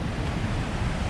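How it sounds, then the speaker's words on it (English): Rushing water of the Somphamit waterfall in Laos, a loud, dense, continuous roar heard up close with some wind buffeting the microphone. "to get a better view of the waterfall"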